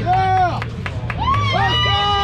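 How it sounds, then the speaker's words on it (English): A crowd at a bricklaying competition shouts and cheers in loud, overlapping voices, close and energetic for the whole moment. "Let's get a load of this crowd."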